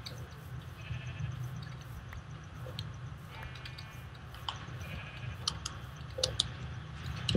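Sheep in the Minecraft video game bleat repeatedly over a steady low background hum, with scattered clicks and faint game sounds, no talking.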